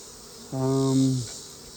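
An insect buzz rises from an opened, healthy honeybee hive being inspected for larvae ahead of winter, a single steady hum lasting under a second, fairly close and clear above faint background hiss.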